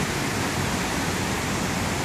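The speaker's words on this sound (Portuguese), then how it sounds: "mostrando um pouco aqui da nossa cachoeira quando chove" A waterfall pours heavily after rain, a loud, steady roar of rushing water that fills the whole clip with no voices.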